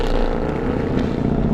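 Naturally aspirated 6.2 liter V8 in an Audi RS5, a loud, close, steady low rumble at idle with a throaty pulsing tone.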